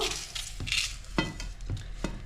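Batter for cowpea vada is mixed by hand in a bowl, giving a wet, rhythmic stirring and slapping. Dull thumps repeat about every half second, close and moderately loud, with no talking.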